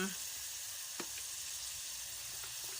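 Loofah and pork belly stir-fry in a pot, giving a faint steady sizzle with a soft clink or two from the utensil, a quiet hiss that stays low the whole time.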